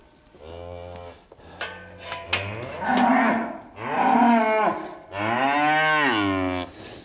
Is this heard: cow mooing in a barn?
yes